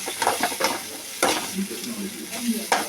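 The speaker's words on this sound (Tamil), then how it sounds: "நல்லா மிக்ஸ் பண்ணிக்கிறோம் அதோட தாளிச்சத்தோட மிக்ஸ் பண்ணிக்கிறோம்" A spoon scrapes and stirs through a sizzling coconut tempering mixture in a pan, with soft clinks and a steady frying hiss close by.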